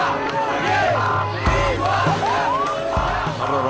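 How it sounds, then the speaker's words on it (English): A large crowd in Cairo, Egypt shouts and screams together, a dense roar with scattered yells and whoops rising above it, sustained and loud throughout with no pause. "In Cairo, Egypt, the crowds are shouting and screaming."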